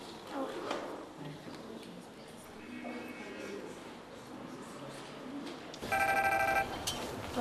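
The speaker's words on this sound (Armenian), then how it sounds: "Հեռախոսը զակ է ունեցել" A mobile phone rings out in a short, bright electronic burst near the end, following several seconds of indistinct indoor background noise and murmuring voices.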